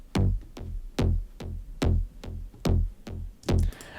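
Sub bass synth patterned after a track, playing eight deep, booming notes in a steady rhythm, each with a sharp attack and short decay, ending on a brief filtered noise swell.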